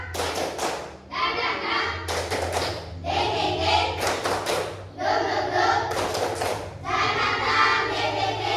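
A school class claps a repeating rhythmic "tepuk semangat" pattern, bursts of quick claps alternating with chanted voices, loud and close.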